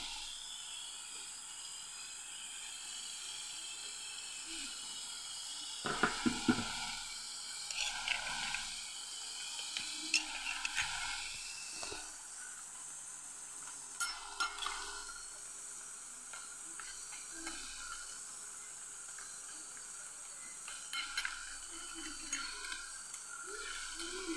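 Lai saak (leafy greens) fries in a pan with a continuous soft hiss and sizzle. Bursts of stirring scrapes and crackles rise and fall throughout.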